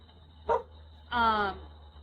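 A dog gives two short barks, a quick yip followed by a longer, fuller bark, heard alone against a quiet background.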